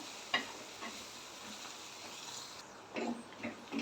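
Onions sautéing with turmeric powder in a pan for potato poori masala, a faint, soft sizzle with occasional scraping stir sounds, quiet throughout.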